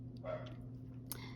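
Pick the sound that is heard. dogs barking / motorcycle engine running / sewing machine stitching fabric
dogs barking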